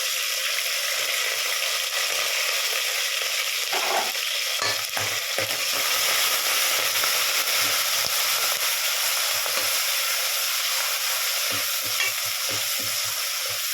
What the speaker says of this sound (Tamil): கூடவே அந்த கழுவி வச்சுருக்கிற கருவேப்பிலையும் போட்டுடலாங்க.